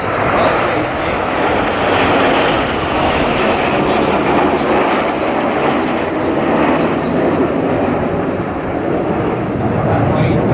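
An RAF fast jet roars past at the Farnborough airshow, a loud, continuous broadband engine rush that fills the whole stretch with a steady, close, powerful jet noise and no voices.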